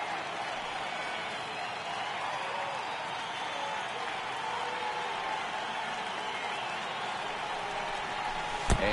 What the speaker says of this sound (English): I can hear the crowd murmuring now